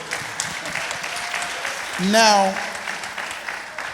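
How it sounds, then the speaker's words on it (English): An audience at a church panel discussion claps, a brief swell of applause beneath someone speaking to the room, who keeps talking over it. "Y'all clap for him."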